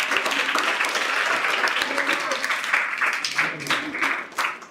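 Schoolchildren in a girls' hostel classroom clap for a classmate, a lively patter of many hands that goes on throughout, with voices mixed in.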